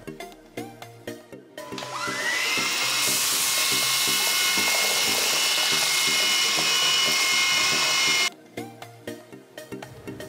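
A cordless stick vacuum cleaner running on a hard floor as it sucks up rice, cereal and flour: a steady high motor whine that starts, holds for several seconds and cuts off, with clicking handling noises before and after.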